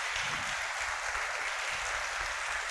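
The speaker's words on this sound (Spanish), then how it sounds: "Un aplauso, por favor." Steady, fairly faint applause from an audience after a conference talk, a continuous hiss of many hands clapping together with no voices standing out.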